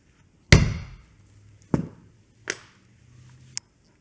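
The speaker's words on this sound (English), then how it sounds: "we're going to use our 1/8 inch hole punch again" A 1/8 inch hole punch driven through leather for a clutch purse strap, heard as three or four sharp, close impacts spaced about a second apart, the first loudest, with a faint hum between them.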